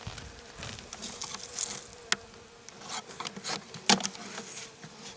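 Honey bees buzz around a hive during spring cleaning, individual insects zipping close past in loud, brief swells over a constant background hum, with a few sharp clicks and knocks.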